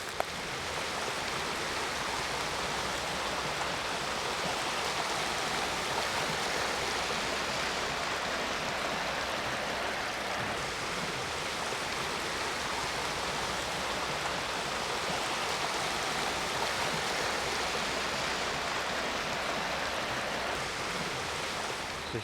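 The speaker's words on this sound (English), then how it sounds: "you can hear the water" A stream flows near beaver dams in Gay City State Park, giving a steady, full rushing wash of water that stays even and unbroken throughout, with no voices.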